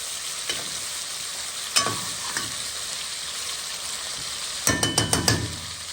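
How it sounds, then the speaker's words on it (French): Boucané, smoked pork, sizzles steadily in a frying pan while being stirred, a constant bright hiss broken by a few scraping stirs and a cluster of sharp clatters near the end; no talk. "Je mélange"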